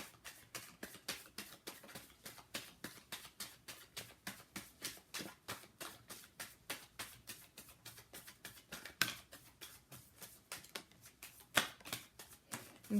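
Tarot cards are shuffled in quick riffling bursts, a rapid papery flutter repeating in a steady rhythm, faint and close with a couple of slightly louder snaps, and no talking.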